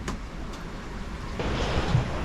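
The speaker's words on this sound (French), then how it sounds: "la mer est extrêmement désorganisée" Choppy, disorganized sea washes around a sailboat sailing solo in the trade winds between Madeira and Martinique, a steady broadband rush with wind buffeting that grows louder partway through.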